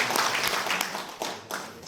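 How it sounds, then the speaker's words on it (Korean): Applause from an audience in a large auditorium at a formal ceremony, brief bursts of clapping that rise and dip unevenly over a couple of seconds. "큰 박수로 한번"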